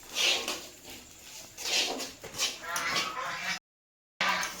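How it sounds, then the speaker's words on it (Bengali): Ducks quacking as they waddle home, several short bursts of calls at close to moderate range, separated by brief pauses, with a silent gap near the end. "হাঁসগুলো বাড়ি যাচ্ছে, ডাকতে ডাকতে যাচ্ছে।"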